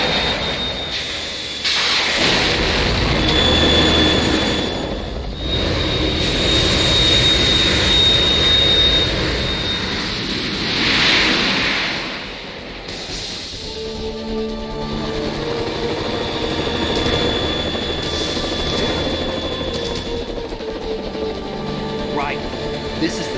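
A Harrier jet roars through a Metal Gear Solid 2 battle, its engine surging and swelling in loud waves with sharp blasts, easing off and returning under voices talking through the fight.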